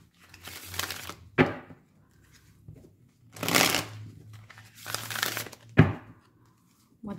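Pre-Raphaelite tarot cards being shuffled and drawn by hand, several soft papery riffles and slides in separate bursts with sharp flicks between them, close and alone without talk.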